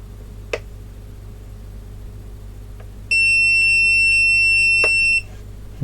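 A sustained electronic beep from a KUAIQU 30V 10A bench power supply lasting about two seconds, loud and steady, with a few faint clicks before and after in a quiet room.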